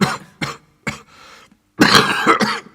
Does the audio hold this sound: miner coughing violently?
yes